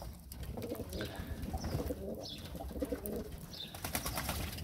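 Pigeons coo softly in a loft, several low murmuring calls overlapping at moderate distance over a steady background hum, with no voices.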